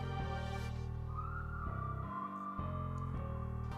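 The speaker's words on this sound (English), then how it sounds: "The last thing I want to add is a lead or a whistle." A whistle lead sound layered over a music beat plays a short melodic line of bright sustained tones above pulsing low bass notes, clear and even in level.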